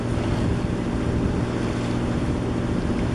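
A sailboat's motor running on calm coastal water, a loud, steady low engine rumble mixed with wind and water noise, with no pauses.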